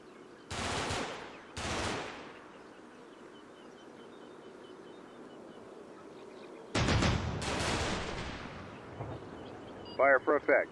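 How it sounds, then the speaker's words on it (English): Artillery area fire in a Combat Mission game set during Operation Market Garden arrives in heavy bursts of shellfire and rumbling impacts, separated by quieter stretches, with short radio-style voice blips at the end. "Got an area fire coming down here."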